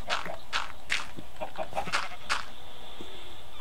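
A chicken in a Minecraft-style video game clucks in a quick series of loud, close, repeated squawks, with a few short isolated clucks trailing off at the end.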